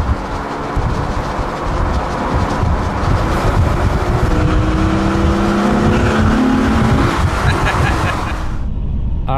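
Loud, continuous roar of a straight-piped Mercedes S65 AMG 6.0L V12 cruising at highway speed, a steady droning exhaust with road noise that drops away near the end.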